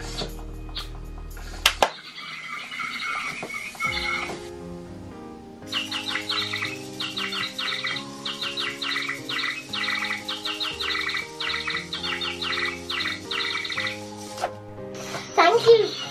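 Toy Flutterbird hummingbird chirping in reply to voices and noise, bright repeated chirps and tweets in bursts over several seconds, mixed with someone talking nearby.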